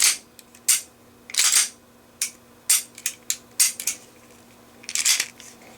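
Function test of a Taurus PT92 semiautomatic pistol: a series of crisp metallic clicks and clacks from the slide, hammer and trigger, spaced irregularly and heard close and alone in a quiet room.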